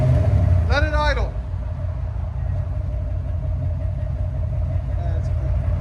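A 1979-1980 Chevy Corvette V8 with a Flowmaster 40 Series or straight-pipe exhaust idles with a steady low rumble and hum, loud and close; a brief whistling chirp sounds early on, and people speak over it.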